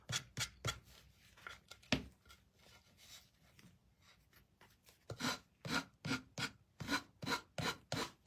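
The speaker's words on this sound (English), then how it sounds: "I'm going to just take my sander again" A sander rasps back and forth across a small wooden Valentine angel kit piece, close and quiet, in rhythmic strokes that come in bursts, pause, then return as a steady run of repeated passes.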